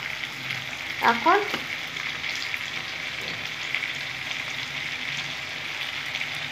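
Whole cumin, coriander, ginger and chillies fry in hot oil with a steady close sizzle and spatter, while a voice speaks briefly over the cooking.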